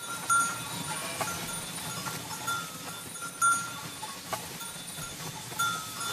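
A flock of about 600 ewes grazing in the Forêt de la Double, with clanking cowbells ringing irregularly over a steady rustling, busy outdoor background; no one speaks.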